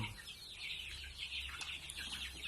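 Young chickens about a month old cluck steadily in a coop sized for a few hundred birds, a dense overlapping chorus of close, continuous calls with no voices.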